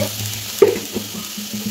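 Chopped tomatoes fry in a pan while being stirred, giving a low sizzle with a few soft scraping knocks from the utensil, close and fairly quiet.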